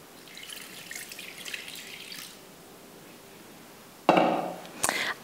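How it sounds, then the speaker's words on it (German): Water is poured into a Thermomix bowl, a faint steady trickle with drips, then louder splashing and a clatter near the end. "Gebt nun 95 Gramm Wasser in euren Thermomix hinein."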